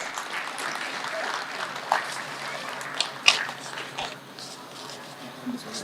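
Applause from an audience at a film first-look launch event rises as steady, diffuse clapping, moderately loud, with a few sharper claps poking out and faint voices underneath.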